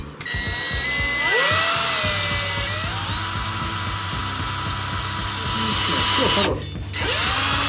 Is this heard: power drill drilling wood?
yes